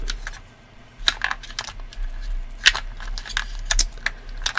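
Two dice tumble, clicking and rattling sharply across a hard surface in a few quick bursts, with no voices.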